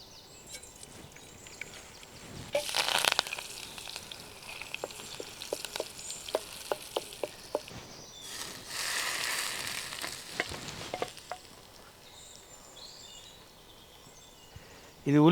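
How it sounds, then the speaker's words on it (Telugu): Tadka for onion and coconut chutney sizzling in a pan, with bursts of crackling hiss around three and nine seconds and sharp popping ticks between them, as for spices spluttering in hot oil, at moderate loudness in a home kitchen. "ఇక తాలింపు పెట్టుకుందాం"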